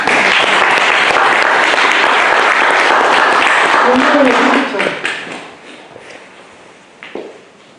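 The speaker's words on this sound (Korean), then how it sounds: "자, 우리 박수를 한번 칩니다." Audience applause at the close of a lecture at a Won Buddhist meditation center in Busan, loud dense clapping from a room of listeners that tapers off into scattered claps and faint voices.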